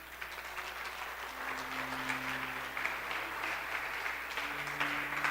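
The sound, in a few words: audience applause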